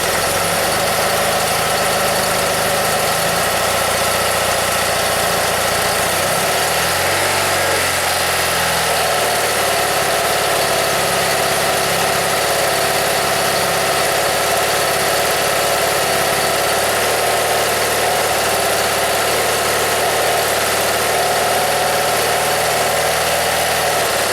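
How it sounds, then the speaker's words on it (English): A 1982 BMW R65 motorcycle engine idles steadily and close by, with an even, unbroken hum and no clear revving throughout. "Rev it up a little bit."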